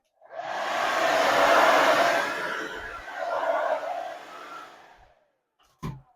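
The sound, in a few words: hairdryer blowing during an ostomy bag change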